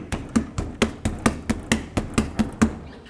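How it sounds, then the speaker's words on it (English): Rubber mallet striking the back of a 1997-2003 Ford F-150 front wheel hub, eight evenly spaced sharp knocks at a quick steady rhythm, close and fairly loud with no talk. "use a rubber mallet and hit it from the backside"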